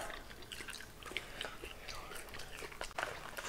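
Close, quiet bites and chews of thick Burger King french fries, soft crunches and mouth sounds in an uneven rhythm, with faint murmured voices.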